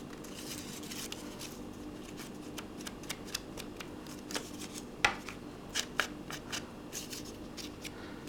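Small scissors fussy-cutting around the white edges of fragile paper pieces, giving a steady run of soft, close snips and rustles with a few sharper clicks near the end.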